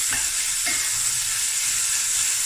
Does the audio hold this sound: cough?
no